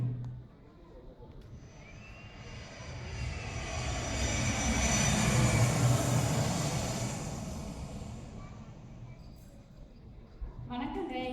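An aircraft roars past at San Francisco airport in a stage skit, building from a distance to a loud peak mid-clip, then fading away, with voices at the start and end.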